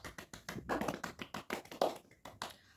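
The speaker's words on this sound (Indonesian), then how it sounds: "Tepuk tangan buat Nisa." Small classroom group clapping for a student, a short run of separate, uneven claps at moderate volume, quiet room, lasting under three seconds.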